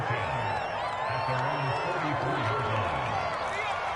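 Stadium crowd noise in a PS4 football game featuring the Eagles, a steady, murmuring roar with faint cheers running under a commentator's voice.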